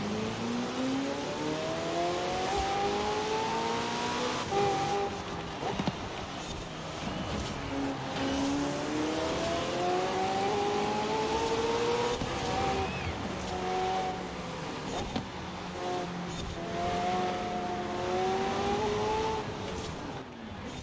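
Race car engines in Forza Horizon 4 rise and fall through gear changes as one car closes on another to overtake, a steady loud drone with rising pitch sweeps and a faint voice underneath.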